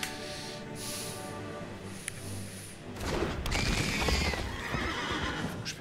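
A horse neighs as the Nightmare horse card is played in the Magic: The Gathering Arena digital card game, a loud whinny layered over steady game music and effects that swell toward the end.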